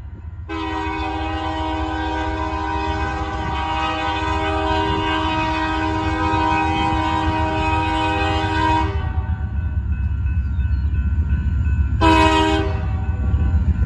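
A Union Pacific freight train led by two SD40-2 locomotives with a GE unit in the middle passes close by, its loud, sustained multi-chime horn blowing for about eight seconds and then a short blast again, over steady rumbling engines and rolling cars.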